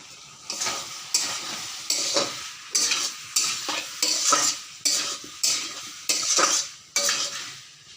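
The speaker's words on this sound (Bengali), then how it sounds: "শুকনা লঙ্কা বাটা, আর তেলে চাপা অ্যাড করে নিব।" Dried chilli paste sizzles in hot oil in a pan while a utensil stirs and scrapes in regular strokes, close and fairly loud, about a dozen rhythmic scrapes over a steady frying hiss.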